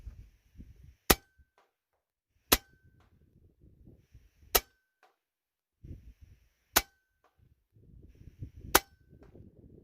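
A .177 air rifle fires hollow-base hollow-point slugs at a target 80 yards away, giving five sharp cracks spaced about two seconds apart, each followed by a faint metallic ring from the distant hit, over quiet background rustle.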